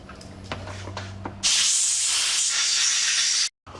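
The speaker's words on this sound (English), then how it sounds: "now it's time to use light air pressure and blow all the little holes out in your carburetor there" Light compressed air hisses steadily through the small passages of a Briggs & Stratton plastic carburetor off a push mower, one loud continuous blast of about two seconds that cuts off abruptly, with faint workshop clatter before it.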